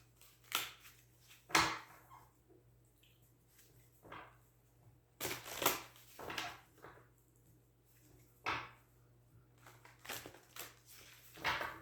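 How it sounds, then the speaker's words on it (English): Tarot cards being shuffled by hand, a series of quiet crisp riffling bursts and soft taps at irregular intervals, close and alone with no talk. "One more shuffle because that one just was crappy."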